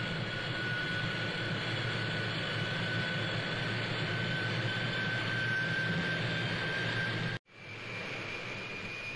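John Cobb's silver jet hydroplane Crusader runs toward the measured mile, a steady distant jet roar with a thin high whine that cuts out abruptly near the end, then resumes softer.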